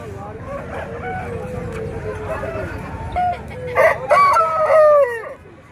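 A rooster crows loudly nearby at a chicken market, a few long rising calls near the end, with a person talking and clucking hens underneath.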